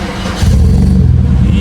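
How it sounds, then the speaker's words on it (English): A car engine, a 3.6-litre motor, fires up by push-start button after the key goes in, a loud near rumble rising sharply partway through and settling into a steady idle. "I put the key in the ignition and I press the start button"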